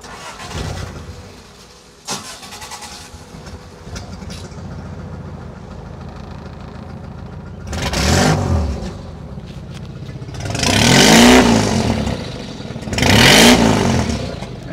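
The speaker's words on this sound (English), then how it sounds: "let's start this beast up and hear the exhaust knot of this car right here" Heavily modified Suzuki Omni van in Dubai with a loud aftermarket exhaust: engine cranks and catches, settles into a rough idle, then three loud, throaty revving bursts, close up with no talk.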